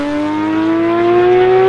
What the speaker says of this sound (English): When the Porsche 991 GT3 RS burst onto the scene back in 2015